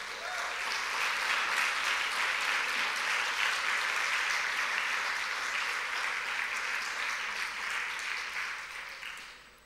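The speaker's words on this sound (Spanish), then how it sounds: "Vamos a darle un aplauso al Señor" Church congregation applauds after baptisms, a thick, even wash of many hands clapping that holds steady for nearly ten seconds with no one speaking over it.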